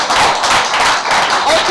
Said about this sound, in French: Hein, on applaudit pour lui.